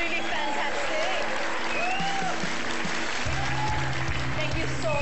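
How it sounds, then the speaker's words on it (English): A steady wash of audience applause after the final lot is sold at a charity auction, sustained and even, with music and voices running underneath. "Big round of applause."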